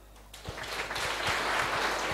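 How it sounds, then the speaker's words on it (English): Audience applause at a Mafukuzela Day ceremony as a Grade 12 learner receives an academic excellence award; dense clapping swells in after a brief quiet moment and holds steady and full, with no talk over it. "A round of applause."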